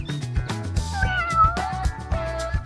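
A cat meows several times, drawn-out, fairly close and clear, over a faint background of soft knocks and rhythmic low thumps, with no talk.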